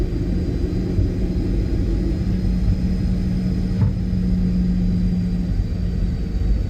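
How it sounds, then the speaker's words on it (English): The jet engines of a Boeing 737-800 cargo plane in the PMDG flight simulator keep up a steady, loud, low roar with no letup throughout. "I just love when the engines roar on the PMDG."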